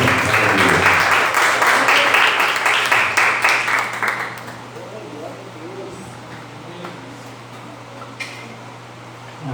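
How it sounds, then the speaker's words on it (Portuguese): Church congregation applauding loudly during a Bible study service, dense sustained clapping that fades out after about four seconds, leaving a steady low hum of fans or air conditioning and a few isolated claps. "Você pode aplaudir bem forte o nome do Senhor?"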